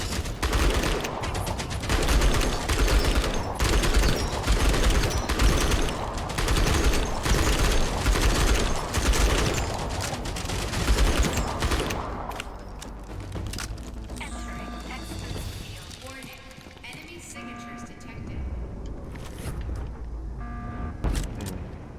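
Automatic gunfire in the video game Outpost: Infinity Siege, a loud sustained stream of rapid shots for about twelve seconds, then quieter mechanical and tonal game sounds.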